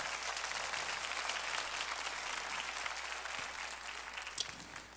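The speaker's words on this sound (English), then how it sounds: "Can we clap it up for him tonight?" A church congregation at a Wednesday evening Bible Baptist service applauds its chief of police, a dense, steady wash of clapping that stays loud for the full stretch and thins slightly near the end.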